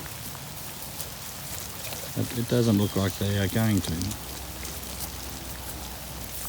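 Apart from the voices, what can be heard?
rain falling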